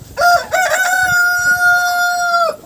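Rooster crowing in a farmyard with chickens, turkeys, guinea fowl and rabbits, one long loud close crow with clucking around it.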